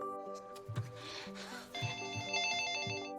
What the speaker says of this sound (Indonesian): tiba-tiba telepon rumah berbunyi